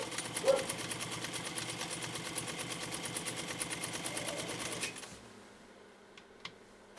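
A PFAFF 230 sewing machine stitches through Italian leather in a steady, rapid mechanical chatter that runs close and loud for about five seconds, then stops, leaving faint room noise and a couple of small clicks.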